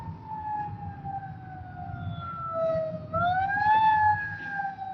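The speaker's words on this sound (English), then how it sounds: "I hear sirens." A wailing emergency vehicle siren sweeps slowly down and back up in pitch, moderately distant, over the low rumble of road traffic heard from inside a moving car.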